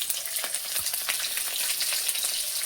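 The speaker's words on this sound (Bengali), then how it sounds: "আজকে রিফাইন তেলে ভাজা করব" Food sizzling and crackling in hot refined oil with black cumin and green chillies, a dense steady frying hiss with small pops and occasional stirring, no talking.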